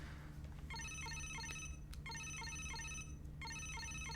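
A phone in the Psycho-Pass: Mandatory Happiness video game rings with a repeating electronic ringtone in three short bursts, each a bright warbling pattern over a low steady hum from the game.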